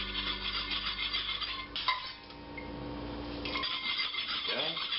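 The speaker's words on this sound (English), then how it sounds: "I'm also going to switch to a whisk just to make this a little easier." Whisk scraping and rubbing around a bowl of peppermint ice cream mixture in a home kitchen, a close, soft, continuous stirring rasp with a few knocks.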